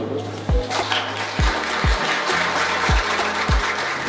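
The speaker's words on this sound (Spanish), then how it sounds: "Así que un aplauso para ustedes." Applause from an audience at an education event in Bogotá, heard alongside a series of low, sharp thumps spaced roughly half a second to a second apart, with a murmur of voices underneath.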